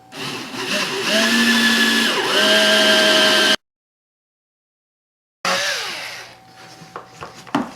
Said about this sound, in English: I'm going to drill these holes back out.